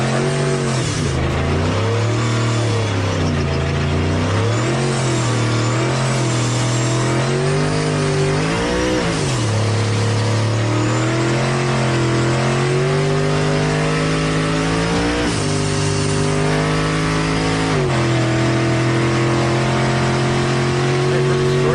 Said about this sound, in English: Now we're taking a ride with Troy Langlow off the line